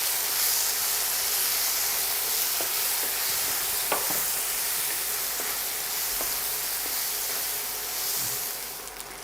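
Chopped tomatoes and onions fry in a pan for a Rajasthani gatte curry, giving a steady, close sizzle with occasional soft clinks and stirring, and no voices.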